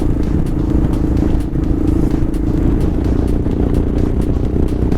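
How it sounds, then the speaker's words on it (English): A Royal Enfield Himalayan motorcycle engine runs hard at around 5000 rpm on a highway, a loud, steady, buzzing drone with rough clattering texture that holds throughout. "So when it touches 5000 rpm, Himalayan engine cries."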